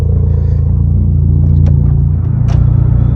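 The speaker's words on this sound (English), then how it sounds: "The exhaust sounds so much better now that it's not leaking" A Mk2 car with a repaired, no longer leaking exhaust rumbles steadily and loud at close range, a deep even exhaust drone with a couple of faint clicks over it.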